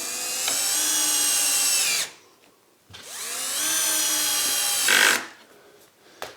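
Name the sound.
power drill driving screws into wood bench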